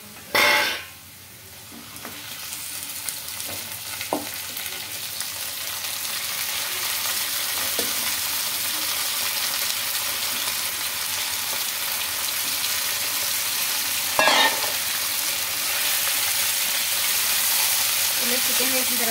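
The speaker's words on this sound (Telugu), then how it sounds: "ఆనియన్స్ అయితే ఫ్రై అయినాయి కదా. ఇప్పుడు కడిగి పెట్టుకున్న చికెన్ అయితే వేసుకున్నాం" Chicken dropped into a pan of fried onions lands with a loud burst of sizzle, followed by a steady, continuous frying hiss and occasional stirring scrapes, close and without speech.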